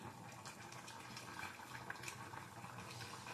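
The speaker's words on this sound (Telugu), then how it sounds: "అదిగోండి కూర అయితే మంచిగా ఉడుకుతా ఉంది" Fish head and tail curry simmers in a pot, a quiet, even bubbling and hissing that holds steady throughout with no voices.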